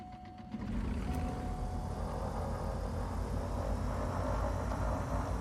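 COWS DA42 twin-engine aircraft engine starting in Microsoft Flight Simulator, a brief click and whine then a steady, loud, rumbling engine drone that holds evenly to the end.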